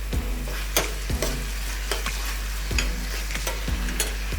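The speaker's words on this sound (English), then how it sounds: "Now this is sauteed out very well." Onions, tomatoes, chili and turmeric sautéing in a pan, heard as a continuous low sizzle broken by regular scraping stir strokes about twice a second, close up and alone.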